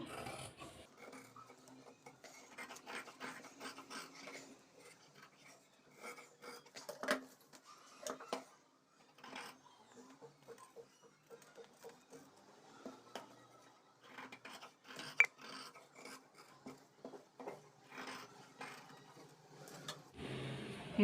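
Scissors cut through canvas fabric being prepared for blouse stitching, giving faint, intermittent rasping snips and soft rubbing in a quiet room with no talking.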